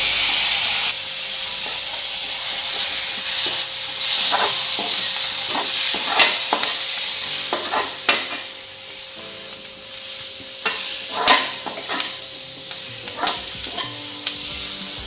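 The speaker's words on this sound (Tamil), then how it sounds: "கருவேப்பிலை நல்லா பொறிஞ்சிருது ஒரு ரெண்டு தக்காளி போட்டுக்கலாம்" Curry leaves and tomatoes frying in a pan for beef chukka give a loud, close, continuous sizzle and hiss, broken by repeated scraping stirs of a spoon against the pan, with no talking.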